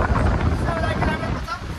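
Strong wind blows steadily across an open spot near a bridge on a trip from Nepal to China, a loud, continuous buffeting rush close to the microphone that never lets up.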